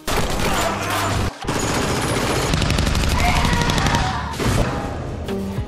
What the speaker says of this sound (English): here are some clips of her shooting